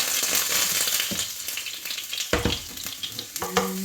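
Garlic fries in a pan with a bright, crackling sizzle, broken by several sharp spatula scrapes and clinks in quick succession.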